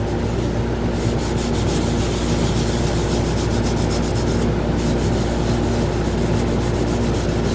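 Continuous loud rubbing and rasping of abrasive paste (Yorkshire grit) against spinning Ipe wood on a lathe, steady and close, with a constant motor hum underneath.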